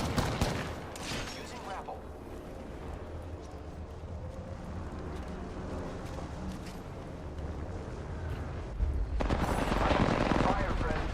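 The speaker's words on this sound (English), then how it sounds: "You're getting shot from behind, be careful." Sustained gunfire from the Apex Legends battle royale shooter: dense rapid bursts at the start and a louder flurry near the end, with a steady game soundscape in between and a player talking over it.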